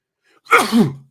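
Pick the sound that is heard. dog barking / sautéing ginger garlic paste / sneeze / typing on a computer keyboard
sneeze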